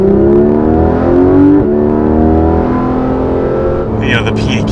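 A Porsche GT3 RS engine drones close and loud while its PDK gearbox shifts down, its tone stepping with each gear change and settling into a steady hum, with a brief click near the end.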